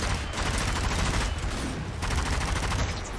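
Rapid gunfire from the player's weapon in the zombie shooter Zombie Army 4: Dead War, a dense, continuous stream of shots at steady loudness throughout with no pauses.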